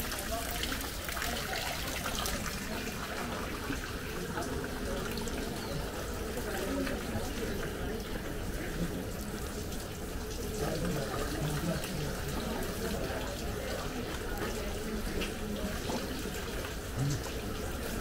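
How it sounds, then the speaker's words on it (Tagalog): Water runs steadily from a shrine purification fountain as hands are washed, a continuous close splashing stream throughout with people talking over it. "Wash your hands again."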